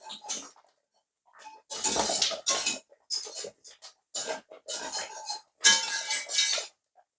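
A whisk scrapes and clinks against a pot while stirring Jamaican cornmeal porridge, in uneven bursts of metallic rattling with short pauses between strokes.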